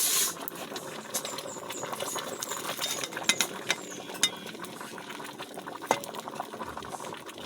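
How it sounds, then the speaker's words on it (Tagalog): Binignit, a coconut milk dessert, bubbles in a pot, giving a dense, busy simmer with irregular soft pops and clicks throughout. "Kaya ni bukal na."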